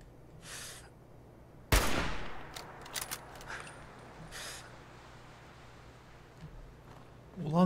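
Gunfire in Fallout 4, a sharp loud shot followed by scattered bursts and popping shots at varying distances over a low background, with a few brief higher noisy bursts between them.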